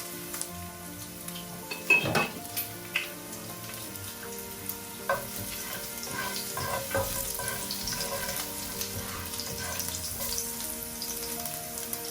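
Chopped onion fries in oil in a pan with a continuous close sizzle and crackle, broken by a few sharp clicks and spatula scrapes early on.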